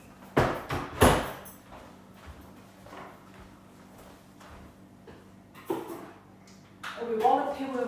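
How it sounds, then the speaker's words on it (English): A door is pushed shut indoors, giving two sharp knocking thuds early on, followed by quieter shuffling and a later bump, with a voice starting to speak at the end. "Let me shut the door."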